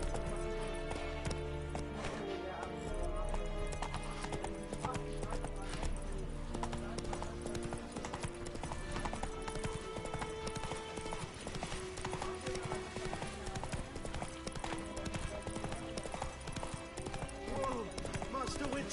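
Horse hooves clip-clop steadily along a road in The Witcher 3 video game, a brisk rhythmic trot layered over game music and character voices.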